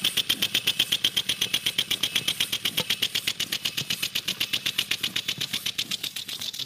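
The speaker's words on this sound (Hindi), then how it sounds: "एयर से चल रहा है इंजन।" A homemade compressed-air engine runs steadily nearby, chugging in a fast, even rhythm of sharp mechanical puffs and clicks for the whole stretch, with no talking.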